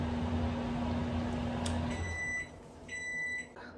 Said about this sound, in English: I just have to put this in the microwave for 45 seconds